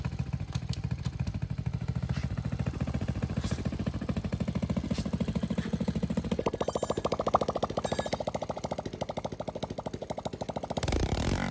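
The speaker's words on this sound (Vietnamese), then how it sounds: "Tình trạng của máy nổ ngon êm, không khói không ngủ." A Honda Dream motorcycle engine idles steadily and close by, a rapid even mechanical putter with a slight clattery edge that shifts in tone partway through.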